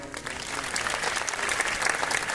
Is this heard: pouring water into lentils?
no